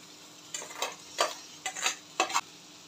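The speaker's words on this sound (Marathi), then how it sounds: "आता याच्यामध्ये आपण बारीक चिरलेली भेंडी घालूया।" Finely chopped okra, being made into a sabzi with turmeric, is stirred in a pan while it fries: four short scraping, sizzling bursts in a steady rhythm, close and moderately loud, with no talk.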